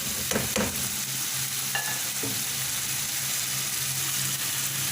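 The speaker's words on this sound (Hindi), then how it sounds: "अच्छी तरह से मिक्स करेंगे।" Masala fried chicken being stirred in a pan, a steady loud sizzle of frying oil with a few scraping knocks of the spoon early on, then continuous frying; no voices.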